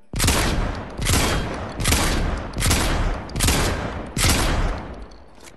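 Six loud, heavy shots from a new weapon in Fortnite Chapter 4 fire at an even, unhurried pace, each blast close and booming with a long tail before the next.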